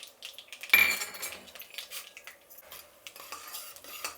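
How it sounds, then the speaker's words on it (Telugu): Mustard seeds and tempering spices hit hot oil in a heated kadai, giving a sudden sharp sizzle that fades into scattered crackles and light utensil clinks, close and moderately quiet. "ఇందులోనే ఇప్పుడు పోపు దినుసులు."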